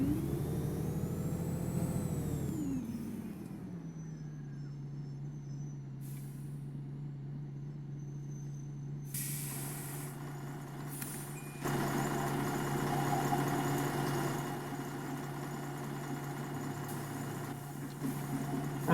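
A Volvo Olympian double-decker bus in the OMSI 2 driving game, idling steadily with a low engine drone after an air-brake hiss at the start, then a louder burst of mechanical noise partway through, with no talking.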